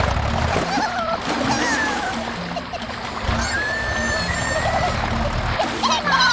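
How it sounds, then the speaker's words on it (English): A rushing, splashing wash of water fills the whole clip, loud and continuous, with a few high cries over the churning noise. "Monkey slips and falls into the rushing water."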